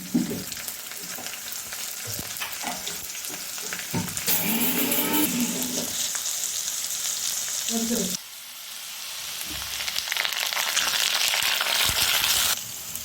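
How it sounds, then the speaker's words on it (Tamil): Curry leaves sauté in hot oil for garlic pickle with a loud, crackling hiss that swells and spits up close, broken by a few knocks and scrapes of a spoon in the pan. "கருவேப்பிலையும் போட்டு நல்லா வதக்கிக்கலாம்"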